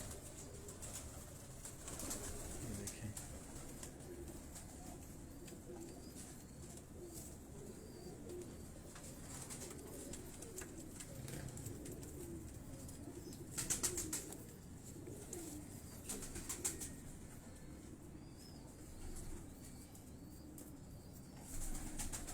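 Domestic pigeons on a rooftop loft coo steadily in low murmuring tones, with a few brief bursts of wing flapping, heard at moderate distance amid faint background noise.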